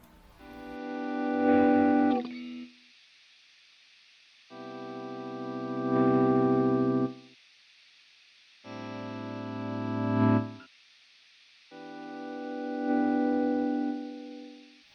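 Electric guitar played through an amplifier, four sustained strummed chords each ringing for a couple of seconds then cut off, with gaps of silence between, heavily layered and washy in tone.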